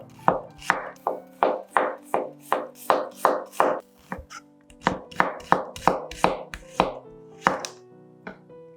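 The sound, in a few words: knife chopping onion into half rings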